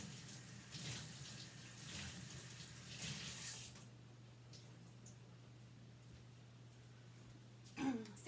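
A chalk eraser is rinsed under a running tap, giving a steady, fairly quiet rush of water for about four seconds before it stops, followed by faint room sound and a brief clunk at the end.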